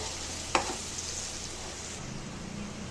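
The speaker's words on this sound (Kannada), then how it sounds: "ಇವಾಗ ಎಲ್ಲನೂ ಮಿಕ್ಸ್ ಮಾಡೋಣ." A spatula stirs cumin powder and garam masala in a frying pan for rajma curry, giving one sharp close scrape followed by a steady soft sizzling hiss, with no talking.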